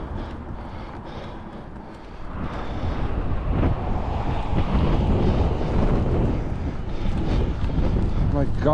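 Strong wind roars across the microphone during an outdoor gravel-tyred mountain bike ride, a loud steady buffeting rush that swells after the first couple of seconds and continues throughout.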